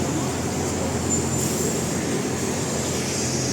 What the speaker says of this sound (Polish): Dobra, wchodzimy do metra.